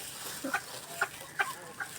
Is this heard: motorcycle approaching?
no